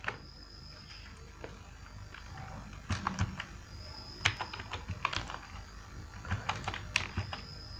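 Typing on a computer keyboard, soft irregular key clicks close by, sparse at first and then faster with clustered taps, set against a quiet room hiss with no talking.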